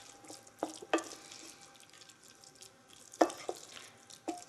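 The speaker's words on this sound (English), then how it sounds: "Now we're going to stir to incorporate all of this." Spelt porridge with coconut milk and raisins stirred in a pot, giving a few scattered soft scrapes and thick wet squelches over a quiet background, with no talking.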